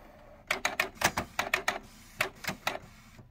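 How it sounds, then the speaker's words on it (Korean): Repeated mechanical knocking from a Canon PIXMA G2900 inkjet printer, about eleven sharp clacks in two uneven bursts with a short pause between, close and fairly loud with no voices. "그래서 움직여 이렇게 덕덕덕덕 팔굽혀 소리 나."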